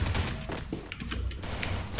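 Firecrackers burst in a rapid, crackling string of sharp pops over about two seconds, close and loud with no talk.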